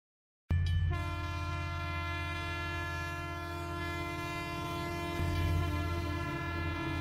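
A cartoon train sound effect for a train pulling in: after a brief silence it starts abruptly with sustained, horn-like tones layered over a rumbling, rolling rail noise that carries on evenly, with a slight swell near the end.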